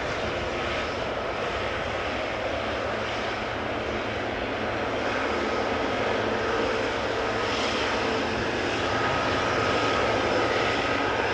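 A KLM Boeing 777-300ER airliner arriving at Amsterdam Schiphol from Johannesburg gives a steady, broad engine roar that holds loud and unbroken throughout, with no voices.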